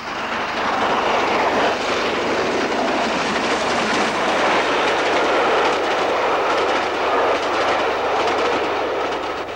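A Gresley A3 steam locomotive races south, a loud, steady roar of rushing train noise that holds evenly for several seconds with no voices.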